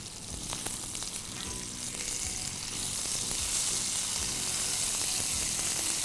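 Oil sizzles steadily in a frying pan as a prawn moilee is cooked, giving a dense, continuous crackling hiss close up with no talk.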